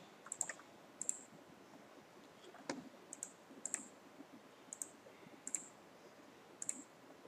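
Mouse clicks on a computer during work in Excel, sounding as sharp, close single and double clicks spaced irregularly over a quiet background.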